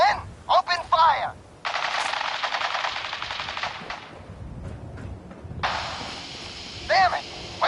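Gunfire in Fallout 4 after a shouted order, with a few sharp single shots and then long sustained bursts of automatic fire, loud and close, with voices in between.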